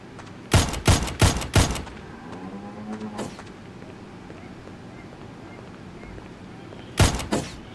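Pistol shots ring out in a video game: a quick volley of four sharp reports, a couple of softer distant shots, then a lull before two more close shots near the end.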